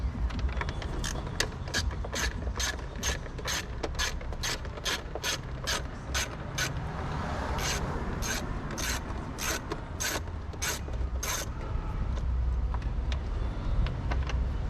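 A ratchet wrench clicks rapidly in repeated bursts as bolts are taken off car parts, the sharp mechanical ticks close and loud over faint background noise.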